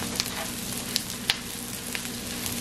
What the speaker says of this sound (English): I'm frying it up with the red onions and just a little butter.